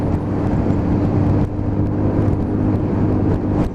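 A Lexmoto Titan 125 motorcycle engine pulling steadily as the throttle opens on an open road into a headwind, a close, continuous hum with heavy wind rush and no voices.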